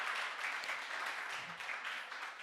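A church congregation applauds its praise team with a dense, steady burst of clapping that fills the room throughout, no voices standing out.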